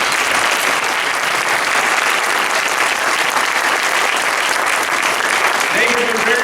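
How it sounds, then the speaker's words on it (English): A town hall audience on restoration of rights gives loud, steady applause that fills the room without pause, with a brief voice or whistle rising near the end. "if we could have our Restoration of Rights staff stand up and give them a great round of applause"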